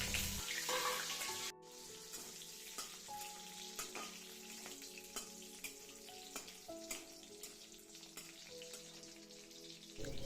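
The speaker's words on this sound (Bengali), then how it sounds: "এখন এর মধ্যে আমি যে ভিজিয়ে রেখেছিলাম কাজু কিশমিশ সেগুলোকে সুন্দর করে ভেজে নেব।" Soaked cashews and raisins fry in oil in a pan, a close, steady sizzle with scattered crackles and pops throughout, alone and fairly quiet.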